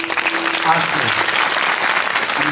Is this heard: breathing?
no